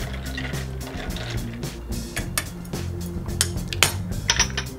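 Quick clinking stir of a cider and ginger beer cocktail in a glass, with bourbon, apple and cranberry, a run of light metallic ticks and taps against the glass over a steady low background hum.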